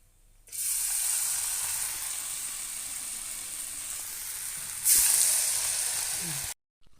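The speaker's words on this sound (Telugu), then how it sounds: "మిగతా జంతుకులు కూడా డీప్ ఫ్రై చేసుకుందామండి" Rice flour janthikalu deep frying in hot oil, a steady loud sizzle that rises sharply partway through as more dough goes in, then cuts off abruptly.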